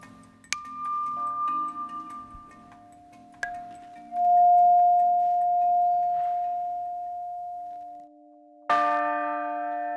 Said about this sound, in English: Grassmeyer bells undergo an extensive tuning process.